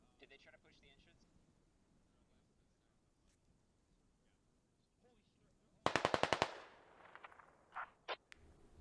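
Rapid burst of automatic gunfire in the video game Squad during a Russian Ground Forces market defense, a loud volley of evenly spaced shots followed by a few scattered single cracks amid quieter background battle noise.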